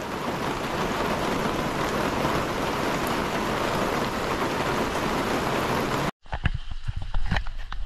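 Rain drums steadily on a greenhouse roof, a dense, even hiss of drops heard close up from inside. It cuts off abruptly near the end, giving way to scattered knocks and handling sounds.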